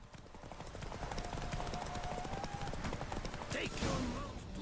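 Roach, a horse in the video game The Witcher 3, gallops with rapid rhythmic hoofbeats over ambient game sound, with a voice speaking briefly and a short whinny near the end.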